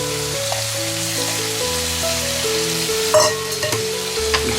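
Bean sprouts and soaked dried vegetables stir-fry in tomato juice in a home kitchen, giving a steady, moderate sizzle and scraping of stirring throughout, with a tonal melody running underneath.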